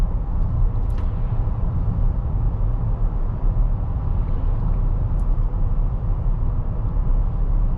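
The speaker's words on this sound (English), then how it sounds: "we could hear what the sound levels are like, both with the tires and the wind noise" Steady broadband road roar inside a 2023 Chevy Traverse LT cruising around 45 to 50 mph, tire and wind noise forming a constant low rumble with no talk.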